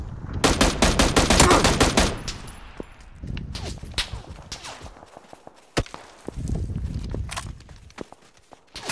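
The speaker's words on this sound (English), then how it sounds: "We have people shooting us from outside zone right now" PUBG gunfire: a rapid burst of automatic shots up front, then scattered single cracks and shorter bursts, some near and some distant, with footsteps and movement sounds in between.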